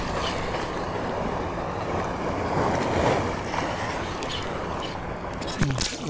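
Heavy waves surge and wash continuously around a boat off a rocky shore in Lapu-Lapu City, Philippines, mixed with wind buffeting the microphone, with a few knocks near the end.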